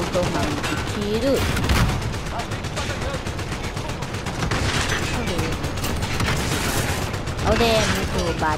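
Gunfire crackles in bursts through a shooting video game match, steady and loud across the whole stretch, with explosive hits and an excited voice shouting over the shots.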